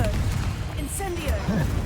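Fire spells Confringo and Incendio crackle and burst in Hogwarts Legacy combat, a dense, loud rush of fiery blasts under a constant game bed with voices mixed in.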